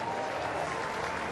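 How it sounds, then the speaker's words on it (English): Cricket crowd at a Pakistan versus New Zealand one-day international applauding a batsman's century, a dense, loud sweep of clapping across the stadium that runs for the full moment. "Warm applause."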